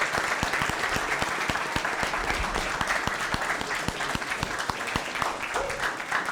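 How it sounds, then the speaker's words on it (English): Audience applause at a sports management sustainable development goals competition after a presentation; even, sustained clapping from a fairly large crowd, close and continuous. "So round of applause again for Ariel, please"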